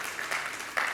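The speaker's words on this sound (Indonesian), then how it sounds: "Tepuk tangan untuk Tuhan Yesus." A congregation claps together during a Sunday church service, a dense burst of hand claps filling the room with a brief louder swell near the end.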